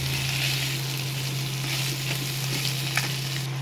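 Salt and ground cumin stirred through a hot frying pan, a steady close sizzle with faint scraping of the spoon and no talking.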